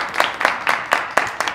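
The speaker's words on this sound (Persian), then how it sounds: "تشویقش کنید عبادی" A few people clapping for a departing player at a Mafia party game, a steady run of about seven claps, close and fairly light.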